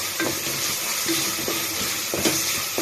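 Ginger garlic paste sizzles and fries in a pan for a chicken dish, giving a steady, close hiss with a few soft stirring scrapes and no talking.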